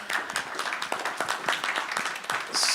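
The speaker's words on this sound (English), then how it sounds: "I think a round of applause for our candidates here at this point." Steady, moderately loud clapping from an audience at a primary-election candidates forum continues evenly throughout, with a brief hiss at the end.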